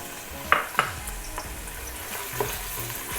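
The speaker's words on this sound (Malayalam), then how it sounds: "ഓയിലൊക്കെ ഒന്ന് ചൂടായതിന് ശേഷം 2 വലിയുള്ളി അരിഞ്ഞ് വെച്ചതാണ്, അത് ചേർത്ത് കൊടുക്കാം" Two sliced onions hit hot oil for ghee rice, giving a loud, close sizzle with a couple of sharp clinks of a spatula early on, then steady frying with occasional stirring scrapes.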